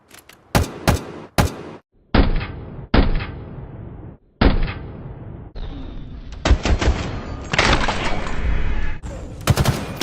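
Stop-motion gunfire effects for a Halo animation: a few sharp single shots, then several spaced bursts, ending in longer rapid full-auto volleys, loud and close with brief silences between.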